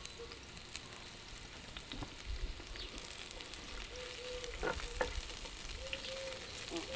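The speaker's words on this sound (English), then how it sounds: "To start with, we've got some chopped onions. So we'll cook them off for a little bit." Chopped onions sizzling gently in a pan, a soft, continuous crackle with occasional faint stirring clinks, quiet and without talk.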